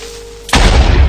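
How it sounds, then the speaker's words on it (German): A Minecraft creeper blows up in the Xbox 360 game, a sudden loud boom that cuts in after a quiet moment and rumbles on heavily to the end. "Rennt an dem Creeper vorbei und lässt ihn explodieren"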